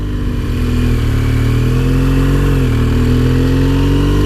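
A BMW R1200GS motorcycle engine pulls steadily in third gear up a steep 25% incline, loud and close throughout, its tone rising and dipping slightly as the rider works the throttle.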